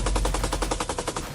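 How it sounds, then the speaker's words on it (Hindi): Machine gun fire from fighters on the Zaporizhzhia front in Ukraine, a loud, close, rapid continuous burst of about a dozen evenly spaced shots with no talk. "ये लड़ाके मशीन गन से गोलियां बरसा रहे हैं"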